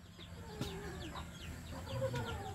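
A chicken clucking in short scattered calls over a faint outdoor background, fairly quiet and a little distant, with no talk.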